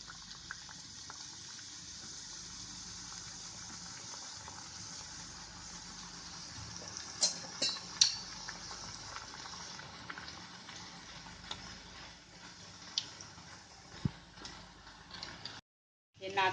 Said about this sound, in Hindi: अब कढ़ाई में तेल गरम होने रखेंगे। हमने तेल पहले से गरम होने रखा था। तेल हमारा गरम हो गया। अब इसमें हम इनको डीप फ्राई करेंगे।